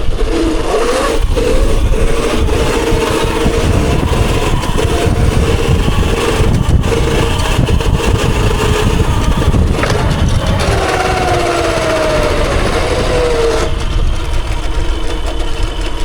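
A motorcycle engine drones loudly and continuously as the rider holds a wheelie on a downhill stretch, the revs rising and falling slightly with a few higher whining sweeps, and no talking.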